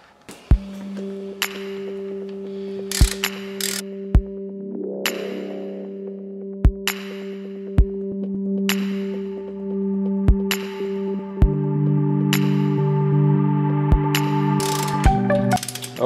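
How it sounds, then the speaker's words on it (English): A torque wrench ratchets as it tightens a front brake caliper bolt on a Suzuki GS550 cafe racer motorcycle: sparse, sharp clicks arrive at irregular intervals over a steady background hum. "I got to get my torque wrench."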